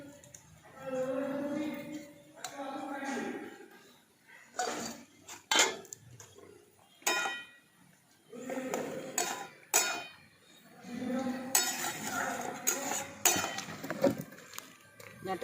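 A spoon scrapes and clinks intermittently against a pan as ground mustard spice paste is mixed into boiled drumsticks and potatoes, with stretches of speech between the utensil knocks.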